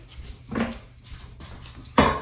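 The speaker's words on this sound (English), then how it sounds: "I'm going to put the top on them." A heavy lid is set down on a pot of slow-cooking grits in a home kitchen, giving one sharp close metallic clank near the end, after a few softer knocks of cookware.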